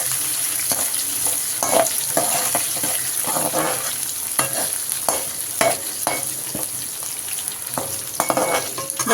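Garlic sizzles steadily in a pan for a pea and potato masala, with close, irregular scrapes of a spoon stirring through it and no voices.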